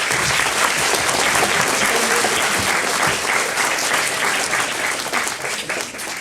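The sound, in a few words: audience applause at university event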